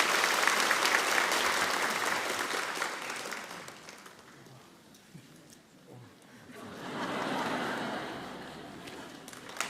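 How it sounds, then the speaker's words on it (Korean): A church congregation at a Sunday worship service applauds to bless a child, a dense burst of clapping that dies down midway, then swells again into a second round, with a voice faintly underneath. "우리 박수로 이 아이를 축복합니다."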